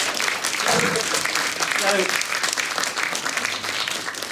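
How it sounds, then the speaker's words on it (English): An audience at an astrophysics center claps in dense, sustained applause that fills the space evenly, with some voices mixed into the ovation. "Let's give her another round of applause."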